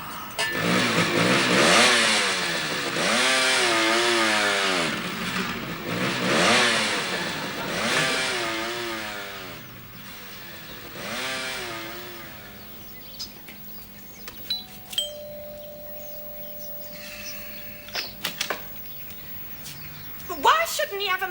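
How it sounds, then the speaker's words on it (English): A motorbike engine revs up repeatedly in several rising, wavering bursts, moderately loud and close, then fades away, leaving faint background noise with chirping birds. "Motorbike. He's entitled to his motorbike."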